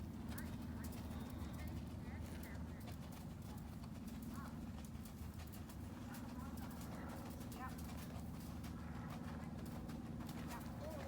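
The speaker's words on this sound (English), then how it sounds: "Let her walk on a long rein." A horse walking on a long rein during a riding lesson gives soft, steady clip-clop hoof beats, faint and somewhat distant under a low background hum, with occasional voices nearby.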